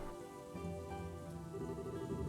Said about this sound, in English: rain's pouring right now